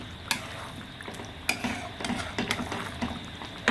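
Chicken with chili powder sautés in a pan for gongura chicken, giving a soft sizzle broken by irregular scrapes and clacks of a spoon stirring, close and fairly quiet, with no talking.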